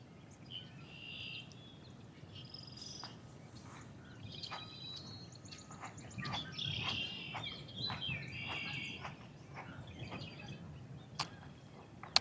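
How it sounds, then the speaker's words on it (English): Red-winged blackbirds sing outdoors in spring beside a Minnesota carp fishing spot, repeated trilling calls and sharp chirps from several birds, moderately distant and faint over a low hum of ambient noise. "Red-winged blackbirds. Those are, I think those are what they're called, the ones that you guys are hearing."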